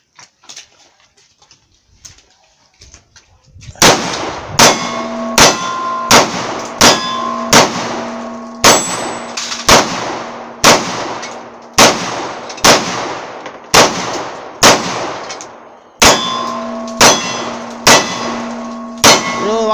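A 9mm pistol fires at steel targets on an outdoor shooting range: about fifteen loud, sharp shots, each followed by a ringing metallic clang, spaced roughly a second apart after a quiet start.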